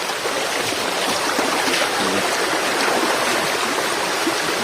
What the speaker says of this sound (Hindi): ये स्मॉल झरना है